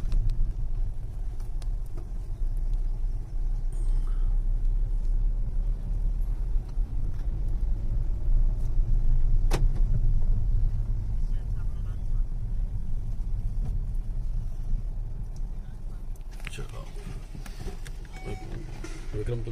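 A car rolls slowly into the parking area of Junagarh Fort in Bikaner, its engine a steady low rumble throughout under outdoor ambience, with occasional voices nearby.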